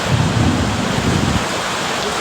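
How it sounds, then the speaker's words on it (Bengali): Heavy rain pours down in a steady loud roar, with a deep rumble of thunder in the first half that fades out, no voices. "ঘরের প্রচুর বৃষ্টিপাত হচ্ছে কাছাকাছি চলে আসছে"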